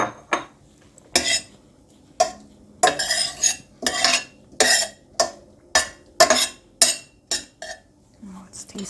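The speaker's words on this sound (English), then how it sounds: "Now I'm gonna add my tofu so the tofu gets heated through." Tofu stirred into a pan of green beans and miso, heard as a series of short, crisp spatula scrapes and metallic clatters in a steady rhythm, separated by brief quiet gaps.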